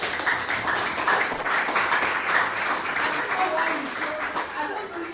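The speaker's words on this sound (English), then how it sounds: "You guys should applaud him so much" Ongoing applause for a university lecturer during an online lab meeting, a moderate, even clatter of many hands lasting throughout, with speaking voices blended over it.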